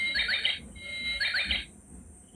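A toy cell phone plays a sparrow sound: two bursts of high, bright chirping and twittering, close and clear, separated by a short gap and followed by quiet.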